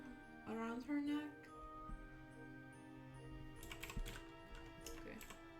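Computer keys clatter in short, irregular bursts, faint and close, with a voice speaking briefly near the start.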